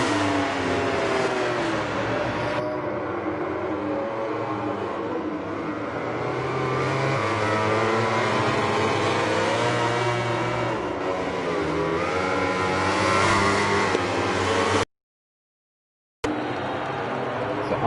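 Race car engines in an esports racing video game roar continuously at high revs, shifting pitch through acceleration out of a double chicane, loud and sustained with a brief dropout near the end.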